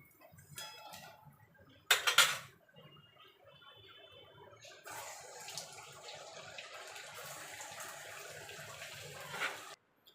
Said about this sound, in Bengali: এবার বাকিগুলো আমি ভেজে নেব।